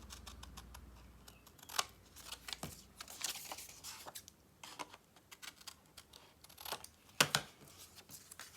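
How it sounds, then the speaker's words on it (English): Scissors snip the corners off folded paper pockets made from weeded book pages for a journal, giving a few sharp crisp cuts and paper rustles over a quiet, faint background. "we're going to do a quick cut of these corners"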